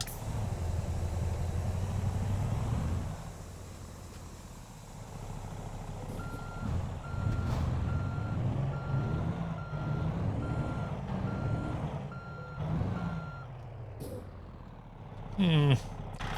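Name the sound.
truck engine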